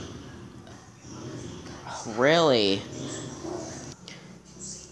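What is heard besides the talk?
dog barking and whimpering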